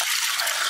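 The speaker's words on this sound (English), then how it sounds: "so I just dump some water in" Water poured into a bucket, a loud continuous splashing gush lasting under a second, close by with no voices.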